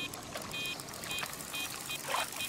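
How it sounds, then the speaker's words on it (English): An old fishing reel with a worn clutch giving out line outdoors by the water: brief repeated high clicking bursts against a steady wash of water and wind, faint but distinct. "I love it when a reel clicks like that, the old clutch is going"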